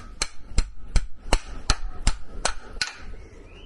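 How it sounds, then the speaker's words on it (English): Gentle hammer taps on a boat outdrive part during a restoration, eight evenly spaced, sharp metallic strikes at close range and steady rhythm, with no speech. "I'm going to do the same with this, just a few gentle taps"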